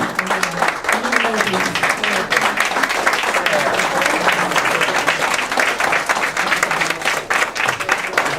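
Audience applause at a political speaking event, a dense, continuous roar of clapping with crowd voices mixed in that stays loud throughout.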